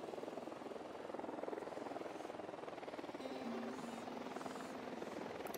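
A drone hovers and flies in the video game Ghost Recon Wildlands, a steady rotor buzz with a rapid chopping pulse, moderately close and continuous, accompanied by faint electronic tones and no speech.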